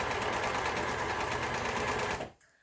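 An overlocker stitches fabric in a fast, steady mechanical whir up close, running loudly for about two seconds before stopping abruptly.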